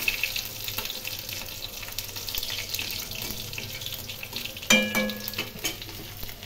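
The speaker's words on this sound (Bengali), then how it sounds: "তেলের মধ্যে পাঁচফোড়ন দিয়ে দিলাম। পাঁচফোড়ন একটু ভেজে নেব।" Panch phoron spices frying in hot oil left over from fried bata fish, a steady crackling hiss with faint clinks and a sharper burst of sizzle partway through.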